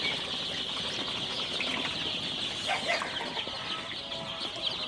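Sonali super hybrid chicks on their fourth day chirp continuously in a steady, dense chorus, with occasional wing flutters and clucks close by.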